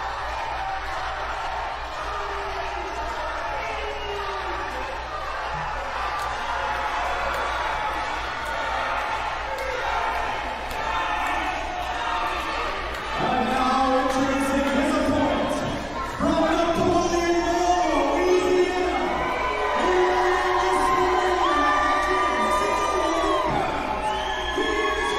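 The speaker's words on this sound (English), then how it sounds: "Listen to that response by our fans" Fans at a professional wrestling event shout and cheer in a swelling roar that grows louder near the end, mixed with scattered whoops and close talk over it.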